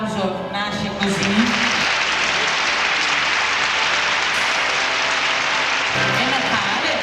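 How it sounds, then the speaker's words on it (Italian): Sustained audience applause at a Miss Lady Veneto beauty pageant, a steady dense wash of clapping lasting several seconds with music and voices mixed underneath. "E voi fate un applauso che si sente davvero."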